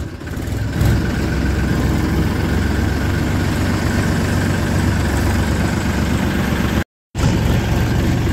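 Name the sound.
small Massey Ferguson tractor engine running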